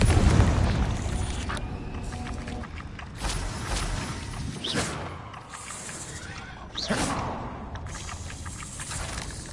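Repeated fiery blasts of the Confringo explosion spell in Hogwarts Legacy, several sharp bursts spaced a second or two apart over a constant rumbling game background.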